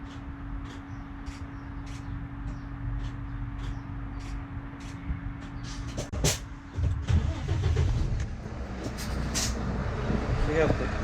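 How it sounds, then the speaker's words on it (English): A Volvo truck diesel engine starting up after a period of steady hum and a few short clicks, then rumbling louder and settling into a running drone, with voices nearby. "start our truck."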